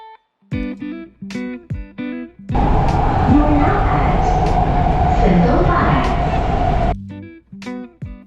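A Kuala Lumpur MRT metro train rumbles steadily for several seconds, a loud continuous roar framed by quieter stretches with tonal electronic beeps and motor whine.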